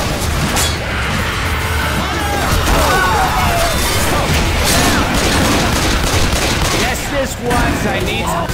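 Dense gunfire from several weapons in Left 4 Dead 2 keeps up a loud, continuous clatter with crashes and impacts, with voices faintly mixed in.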